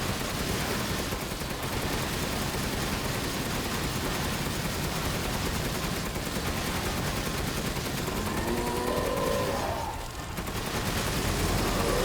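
Rapid gunfire bursts in Resident Evil Village fill the clip continuously with dense, loud noise, a brief dip near the tenth second before shooting resumes.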